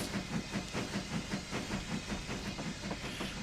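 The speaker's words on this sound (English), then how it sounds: "that can now go into running to stop all that hissing noise" A K1 steam locomotive in a railway video game on the Hamilton Branch Line gives off a continuous steam hiss with a rhythmic pulsing chuff, steady and moderately loud.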